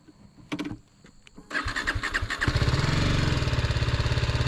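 A 2020 BMW G 310 R motorcycle is cranked after a few clicks, catches and settles into a loud, close, rapidly pulsing single-cylinder idle that holds steady to the end.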